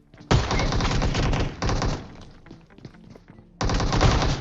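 Rapid bursts of shotgun and automatic gunfire ring out in a battle-royale shooter game, loud and close, with a short lull before another heavy burst at the end.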